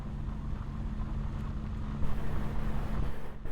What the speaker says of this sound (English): Plus, I've got my window open, so you might hear a car go past every once in a while.